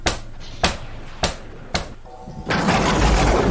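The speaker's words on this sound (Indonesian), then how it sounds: "Ada orang yang mengetuk pintu." Knocking on a house door, four distinct hollow knocks spaced about half a second apart, followed by a louder rumbling background noise.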